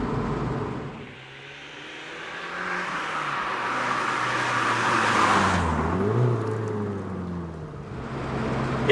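Exhaust of an Abarth 695 Rivale hatchback: a close, steady engine roar with a rise and fall in pitch partway through as the car accelerates, no talking.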